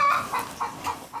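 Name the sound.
roosters and poultry in a farm enclosure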